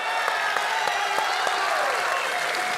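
Audience applause for two politicians at the close of an economic debate, a loud, steady wash of clapping with a few sharper individual claps standing out.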